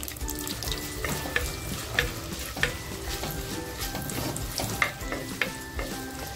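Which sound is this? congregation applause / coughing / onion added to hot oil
onion added to hot oil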